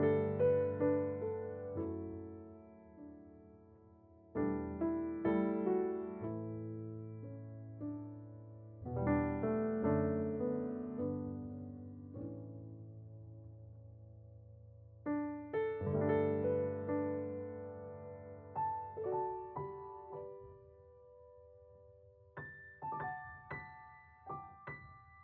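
Una corda samples from 8Dio's 1985 Modern Grand Piano, a sampled Yamaha grand, played as a series of soft sustained chords and single notes. Each phrase rings and decays, with quiet gaps between groups and lighter high notes near the end.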